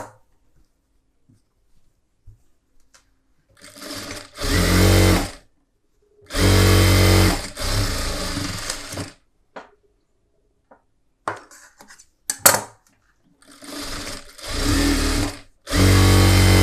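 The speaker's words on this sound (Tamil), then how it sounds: "அடுத்தடுத்து ஒரு 3 தையல் போட்டுக்கோங்க" Sewing machine stitching a collar neck blouse runs in several separate loud bursts of a few seconds each, with short pauses in between, close by and free of speech.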